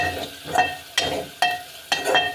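Shrimp fry in a pan for a tomato shrimp curry, giving a steady sizzle broken by four sharp, rhythmic scrapes as a spoon stirs them.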